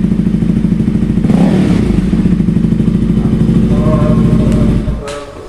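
A motorcycle's stock exhaust runs loud and close, a steady throbbing rumble with mechanical clatter that drops off sharply near the end.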